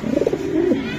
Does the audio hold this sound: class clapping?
no